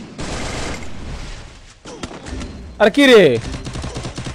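Bursts of rapid gunfire from a shooting video game, loud and close, with excited players talking over the shots.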